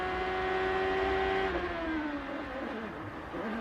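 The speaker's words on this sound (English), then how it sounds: "The reason he revs the engine like that" A 2003 CART race car engine drones at high revs, then its pitch drops sharply as it winds down, with a steady mechanical roar throughout.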